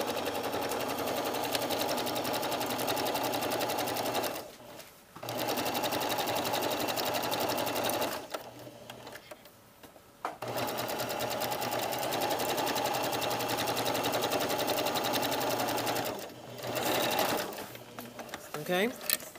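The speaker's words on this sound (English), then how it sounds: "I'm going to sew to the left of my stay stitching." A domestic sewing machine runs in long, steady bursts while stitching the front darts of a jacket, a fast dense whir close up, pausing briefly three times before starting again.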